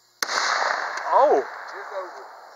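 A single sharp gunshot right at the start, with its crack ringing out into a sustained outdoor rumble, followed by a brief vocal exclamation as the echo fades.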